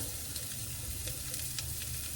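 Grated garlic, ginger and onion stir frying in a pan, a soft continuous sizzle with faint scraping and stirring, low in level and without speech.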